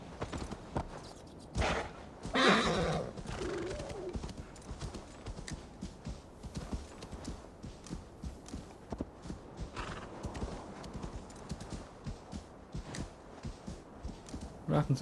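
Rhythmic hoofbeats clip-clop steadily throughout as a horse gallops in the video game Assassin's Creed Valhalla, with a few loud neighs and whinnies cutting in near the start and middle.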